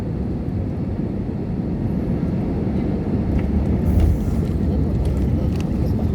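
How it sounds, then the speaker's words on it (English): Passenger airplane landing in Kathmandu, Nepal, with reverse thrust slowing it down, a loud, steady roar of engine and rushing air heard from inside the cabin that swells slightly partway through. "This is the reverse thrust, pulling up and slowing the plane down."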